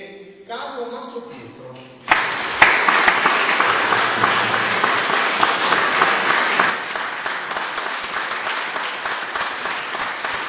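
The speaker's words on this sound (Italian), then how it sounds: "accogliamo con un applauso Morena Mestieri e Carlo Mastropietro" An audience at a small chamber music concert breaks into applause welcoming two performers; brief talk first, then dense, close clapping starts abruptly and continues steadily, easing a little toward the end.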